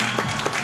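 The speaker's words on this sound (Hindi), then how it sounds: "जिनके ख्याल में सबसे अच्छा शेर इन्होंने सुना है वो तालियां बजा दें" An audience at a Pakistani talk-show segment claps together, a dense burst of hand claps held steady through the moment with a faint hum underneath.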